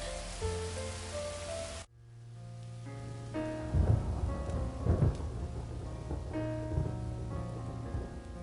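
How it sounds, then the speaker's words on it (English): A thunderstorm with rain and wind: a rumble of thunder, then steady heavy rain with further rolling thunder cracks and booms, loud and close. "A storm like that will keep us all indoors."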